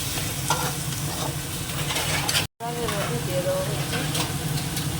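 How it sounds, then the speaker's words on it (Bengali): Garlic paste sautéing in a hot pan, a dense close sizzle with faint stirring that cuts out briefly at the midpoint, then resumes with crackling spatters. "আর দিয়ে দেবো হচ্ছে রসুন বাটা এবার এটাকে একটু কষিয়ে নিই"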